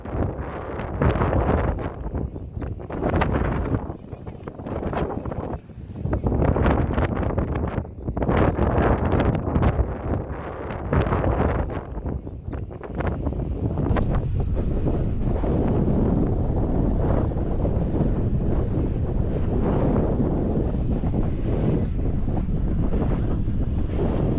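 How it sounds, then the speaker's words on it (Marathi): Wind blows at Dive Ghat, a hillside pass, roaring into the microphone in loud, sustained gusts that pulse unevenly at first and then settle into a steady rush, with no speech. "वारा सैरावैरा सर्वत्र मुक्त संचार करतोय"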